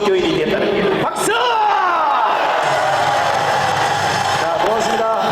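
A crowd at an outdoor patriotic Christian rally in Gwanghwamun shouts and cheers loudly, with bursts of clapping and whoops under an amplified voice on the loudspeakers.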